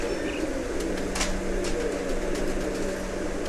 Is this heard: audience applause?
no